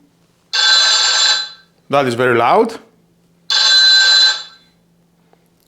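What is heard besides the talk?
smart home base ringtone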